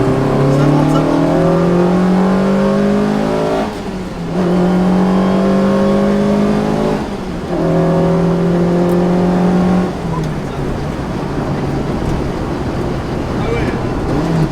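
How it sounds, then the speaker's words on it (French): Lotus Exige S1 engine pulling hard from inside the cabin, revs climbing in long rising sweeps broken by brief dips at gear changes, loud and continuous with road roar beneath. "Et écoutez le moteur."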